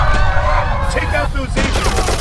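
Automated turret fire in Darkest of Days, a rapid stream of loud mechanical gunshots rattling without pause, with voices faintly heard underneath.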